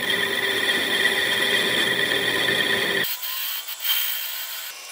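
A parting tool cuts into a turned wooden Christmas mushroom ornament spinning on a lathe, giving a steady loud scraping whine that stops abruptly after about three seconds, leaving quieter motor hum and faint rubbing.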